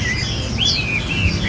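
Songbird singing, likely a caged laughingthrush-type bird, with a few bright whistled phrases over a steady background hiss, close and clear.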